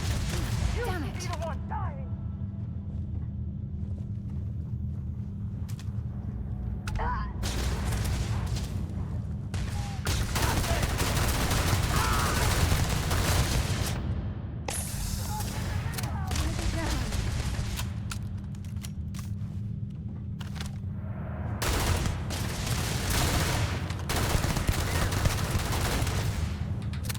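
Sustained gunfire in Starfield, dense bursts of shots layered over a constant low rumble, with brief quieter gaps between volleys and a voice speaking partway through.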